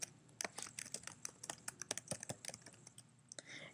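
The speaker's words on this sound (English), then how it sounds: "I'm going to type copyright" Fingers tap out a short word on a computer keyboard, a close, quiet run of crisp key clicks in an uneven rhythm with no voice over it.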